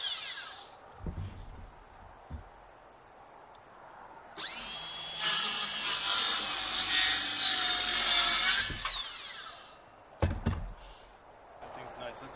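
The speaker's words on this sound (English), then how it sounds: "That's the first time I've ever used a battery-powered circular saw" A battery-powered circular saw cuts through wood in one sustained burst of about four seconds, loud and whining, framed by quieter handling knocks and clatter before and after.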